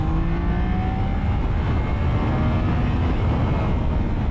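A Triumph Daytona 660 motorcycle accelerates hard on an open road, its engine roar rising in pitch beneath a steady, loud rush of wind noise, with no voices.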